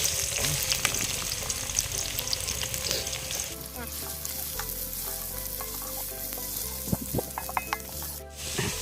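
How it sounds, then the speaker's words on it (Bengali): Onions fry in a clay pot for a South Indian style prawn biryani, sounding as a steady close sizzle broken by frequent scraping and clinking stirs, a louder clatter toward the end, and no speech. "পেঁয়াজটা ভেজে নেব"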